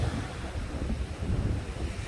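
A big ocean wave crashes and churns during king tides, a loud rumbling surge of surf with heavy wind buffeting the microphone, no voices over it.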